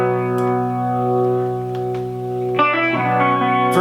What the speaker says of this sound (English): It's like a Leslie speaker spinning.